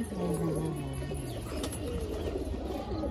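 Pigeons in a loft cooing in low, soft repeated calls close by, with a faint murmur of background sounds around them.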